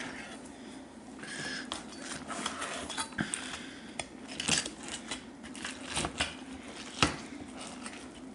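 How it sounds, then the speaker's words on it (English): A knife cuts the wings off a roast piri piri chicken, giving soft crackling scrapes and sharp clicks against a plate, faint and intermittent with no talk. "Then I like to cut the wings off."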